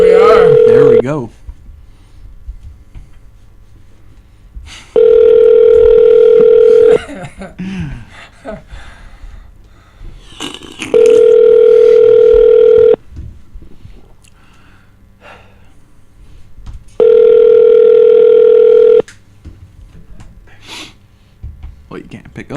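Repeated telephone tones sound during a prank phone call, three loud sustained steady beeps each about two seconds long, separated by several seconds of talking, breathing and low background noise.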